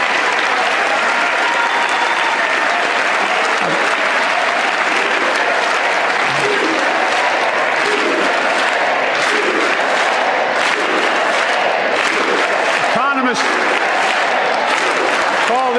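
Audience at the State of the Union cheering and applauding in a dense, loud, sustained wave that lasts the full stretch, with shouted voices rising through the clapping near the end.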